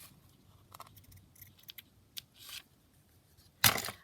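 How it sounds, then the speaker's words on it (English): Scissors trim lace in a small craft session: a few quiet, scattered snips and light rustles, then one sharp, bright metallic clip close by near the end. "I'm just going to trim this lace off,"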